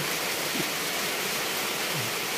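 Steady rain pours down in a dense, even hiss that fills the space without any break, with no talking.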